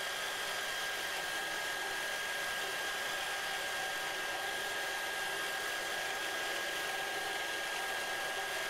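A shaft spins steadily on a lubricant friction test rig, a constant whirring hiss with a high tonal whine, unchanging throughout and without talk.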